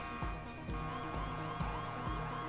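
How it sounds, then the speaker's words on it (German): A police car in the GTA Online video game wails its siren continuously while repeated thumping impacts sound underneath, moderately loud with no talk. "Ich fahr die ganze Zeit jetzt mit Sirene und Hupe."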